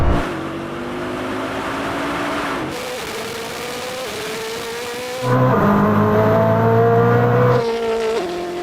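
A Koenigsegg Jesko and a Bugatti Chiron Super Sport launch side by side in a drag race. Loud engines roar and climb through repeated gear changes, then surge harder toward the end before easing off, with no talk.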